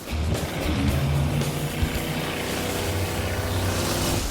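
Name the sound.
cars drifting in circles in water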